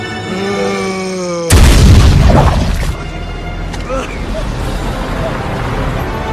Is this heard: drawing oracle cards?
no